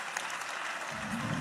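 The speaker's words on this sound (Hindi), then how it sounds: "शानदार जवाब, इनके लिए जोरदार तालियां" Audience at a business summit breaking into applause, a brief, steady patter of many hands clapping at moderate distance, with a low murmur rising near the end.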